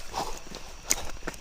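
Horse hooves clip-clop at a walking pace, a few soft, regularly spaced knocks heard close by over a low background hiss.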